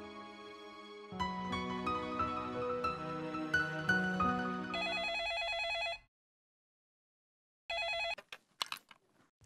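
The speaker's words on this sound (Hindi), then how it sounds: "जाके देखा केकर फोन बा" A telephone rings in a home scene from a Bhojpuri TV family drama. A tonal electronic ring sounds clearly over background music and stops abruptly, followed by silence and then a short burst of the ring again. No one speaks.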